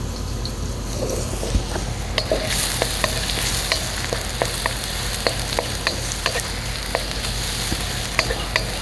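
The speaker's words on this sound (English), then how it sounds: "This would be stir-fried bok choy. Don't burn the garlic, don't burn the ginger." Bok choy stir-fried with ginger and garlic in hot oil gives a steady, loud sizzle, with sharp scattered clicks and scrapes from stirring throughout and no voices.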